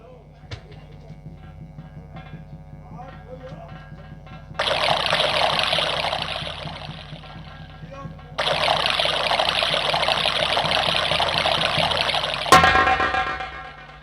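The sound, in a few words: water being poured for someone to drink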